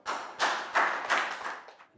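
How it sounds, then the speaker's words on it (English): Young pupils in an online Year 3 English class clap in a quick, fairly quiet run of about half a dozen distinct claps that fade toward the end, with no talking over them. "Big round of applause for Prao."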